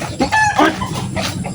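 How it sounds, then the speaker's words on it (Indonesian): Chickens clucking and squawking in an agitated flurry, a few sharp calls rising over a rustling farmyard background, close by with no one speaking. "Jabrek, lihat ayam. Ayam saja ketakutan sama kau"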